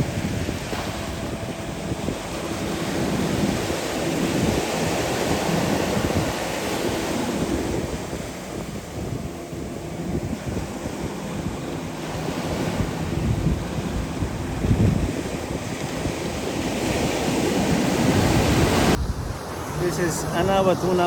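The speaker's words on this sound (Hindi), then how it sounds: "Just listen to the waves." Ocean surf at Unawatuna beach in Galle, Sri Lanka, breaking in a continuous loud wash with heavy wind buffeting the microphone, ending in a brief quieter stretch.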